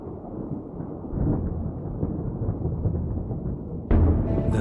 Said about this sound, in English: The thunder that haunted the horizon all week has finally arrived.